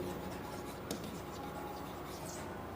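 Chalk or marker writing a chemistry formula on a classroom board, a steady faint scratchy texture with one sharper tap partway through, heard close without speech.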